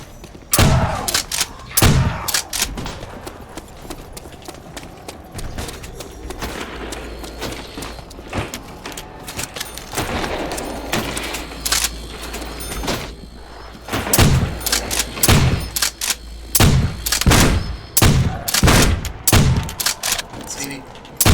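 Trench gun shotgun blasts in Call of Duty: World at War sound as loud, sharp shots in irregular bursts, some in quick clusters, with game noise between them.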